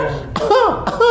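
A man imitates a rhythmic cough with his voice, producing two short, forceful bursts close to the listener.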